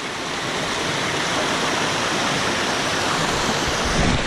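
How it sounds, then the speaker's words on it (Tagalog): Water from six large springs pours steadily into an irrigation channel, a loud, continuous rushing and splashing with no pauses and no voices. "Yan po ay anim na bukal na malalaki sa Ilaya"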